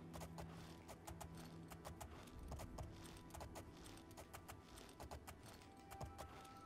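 Hooves clip-clop in a quick, regular rhythm over a low ambient hum, the steady gait of a horse trotting along in the video game Oblivion.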